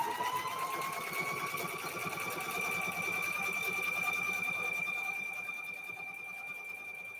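A sewing machine stitches a cow-themed quilt sandwich with black and white variegated thread, running steadily and close for several seconds with a rising whine, no voices.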